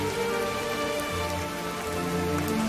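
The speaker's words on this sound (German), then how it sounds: "Aber es regnet." Steady rain falls outdoors, a continuous dense hiss of drops on surfaces, even and fairly loud throughout with no talking.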